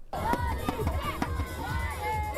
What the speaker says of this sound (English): Kids cheer on the Toronto Maple Leafs during an outdoor practice in High Park last week